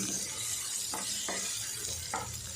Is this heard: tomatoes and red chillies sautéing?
yes